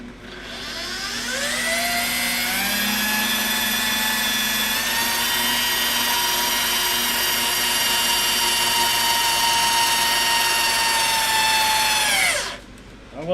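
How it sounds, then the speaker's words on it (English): A drill spins a wire-coiling rig for making rings, with a rod of about a quarter inch. Its steady high whine holds loud and even for about twelve seconds, then winds down and stops. "Ringinator's only ever had that one drill in it, but it's not as torquey"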